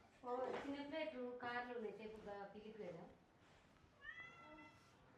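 A cat meows loudly and close up in a long, drawn-out, wavering cry, then gives a shorter, higher meow a moment later.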